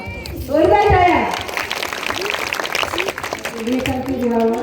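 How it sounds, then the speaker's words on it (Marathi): Applause from an audience at a public speaking event rises as a broad burst of clapping between stretches of a speaker's voice, loud and close. "जोरदार टाळ्या."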